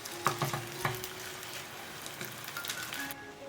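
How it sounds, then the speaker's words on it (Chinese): Cheese beef roll standing on its side in a lightly oiled flat frying pan, with faint sizzling and a few soft clicks and scrapes of turning, quiet throughout. "侧边也要立起来给它煎一下"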